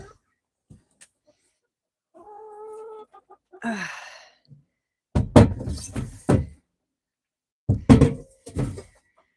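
Hens cluck with short tonal calls near a coop, while shovel scrapes and heavy thunks of scooping out bedding break in loudly and close, separated by quiet gaps, with no speech.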